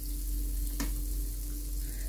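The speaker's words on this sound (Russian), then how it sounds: "Вот так жарится макароны." Pasta fries in a pan after the cream and water have cooked off, giving a steady, close sizzle with a low, constant hum underneath and one brief sharp tick partway through.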